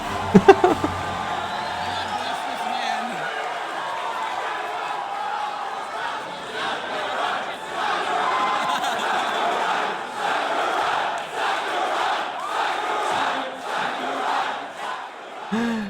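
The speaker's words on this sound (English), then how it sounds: "the crowd just starts going absolutely bonkers" A large crowd at the E3 2018 event roars and cheers wildly, a sustained loud wash of shouting and whooping that swells and dips for the whole stretch.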